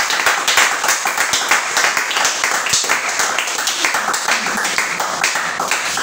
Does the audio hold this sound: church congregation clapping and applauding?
yes